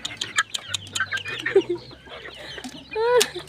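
Roosters cluck and squawk close by during a cockfight, in short sharp bursts and one rising cry, with people talking quietly underneath.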